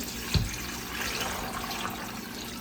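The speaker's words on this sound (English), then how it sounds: "Add some water" Water poured into a blender over dates, coconut and ginger for a homemade milk drink, a brief steady splashing rush after a short knock, close and alone.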